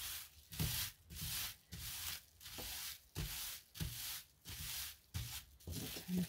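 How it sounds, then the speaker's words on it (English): Wet felt fibres are rubbed by hand in a steady back-and-forth rhythm, each stroke a soft, close-up swishing scrub, repeating about eight times with brief pauses between, quiet and without talk. "So I'm just going to rub it gently to begin with, and then we can be a lot rougher in all directions."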